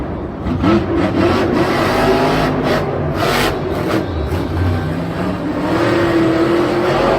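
Grave Digger monster truck, driven by Adam Anderson, launching at a Monster Jam stadium event in Minneapolis, its big engine revving loud and sustained with rising whine over constant crowd and arena noise.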